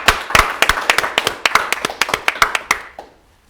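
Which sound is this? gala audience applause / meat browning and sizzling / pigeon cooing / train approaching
gala audience applause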